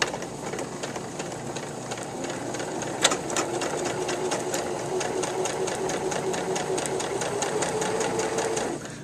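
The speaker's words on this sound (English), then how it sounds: "I'm going to sew right along the top edge of this last stitching." A sewing machine stitches along the top edge of a t-shirt hem, a fast, even mechanical chatter that runs continuously at close range.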